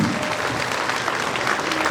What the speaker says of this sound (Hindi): तालियां थोड़ी जोरदार होनी चाहिए।